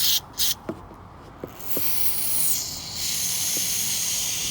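Aerosol spray hissing over small Honda-style lawn mower carburetor parts during cleaning: a broad steady hiss lasting a few seconds after some short clicks and taps, close and moderately loud, with no talking.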